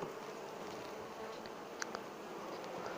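Honeybees at an apiary during the acacia honey flow buzz in a steady, soft drone close by, with a few brief louder passes as individual bees fly near. No voices are heard.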